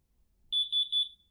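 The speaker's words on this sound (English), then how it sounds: "it should send it to the device and arm my alarm" A smart home alarm sounds its arming signal: three short, shrill electronic beeps in quick succession, clear and close in an otherwise quiet room.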